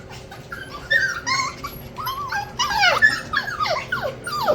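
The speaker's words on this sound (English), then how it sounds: "barking at us nonstop" Young puppies at about nine weeks old yip, whine and bark in a rapid, continuous string of high-pitched calls, close by and fairly loud, with no talking over them.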